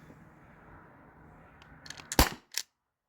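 A T4E HDP50 pistol-style marker on an HPA tank fired through a chronograph indoors: after a quiet hiss, two sharp close pops about half a second apart, then silence.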